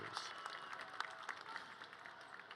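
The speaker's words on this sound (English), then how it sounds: "A special cheer for Linda Zochi Melendez" Applause from an audience at a university commencement ceremony, a steady wash of many hands clapping with scattered sharper claps throughout, fairly distant and moderately loud.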